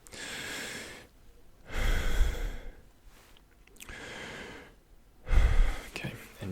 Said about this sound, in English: we're trying to get the air deep into the bottom parts of our lungs.